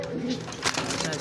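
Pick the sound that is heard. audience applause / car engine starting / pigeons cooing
pigeons cooing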